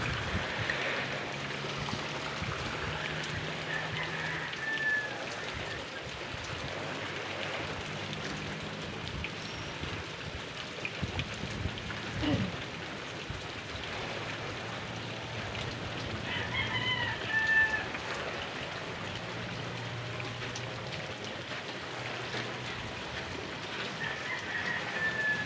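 Steady rain falls during a typhoon by the sea near a floating cottage, a soft continuous hiss with faint bird or rooster calls now and then; no talking.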